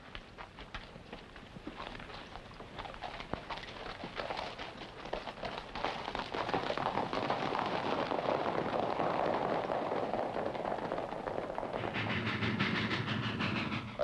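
A train rumbles steadily along the rails, growing louder and fuller midway, with faint clicking rhythm and no voices.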